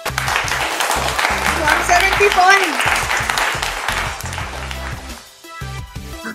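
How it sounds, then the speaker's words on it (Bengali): Audience clapping at a Holi special family game show in a store, brief applause mixed with loud background music while a host speaks over it. "আর জোরে হাততালি হয়ে যাক ওনাদের জন্য।"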